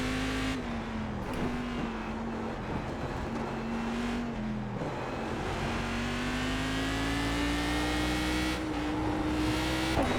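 Race car engine at full throttle during an iRacing Fanatec Global Challenge race at VIR, a loud sustained drone whose pitch climbs steadily through gear changes, with brief dips between shifts.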